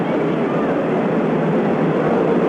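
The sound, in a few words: airplane flying over the stadium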